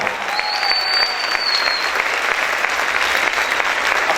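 Steady, vigorous applause from a church congregation fills the space, dense and continuous from start to finish, with faint voices mixed in beneath the clapping.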